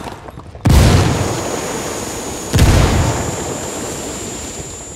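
Two loud frag grenade blasts in the video game Ghost Recon Wildlands, each a sudden heavy boom followed by a long rumbling decay, the second arriving about two seconds after the first.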